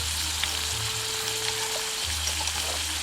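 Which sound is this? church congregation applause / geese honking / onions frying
onions frying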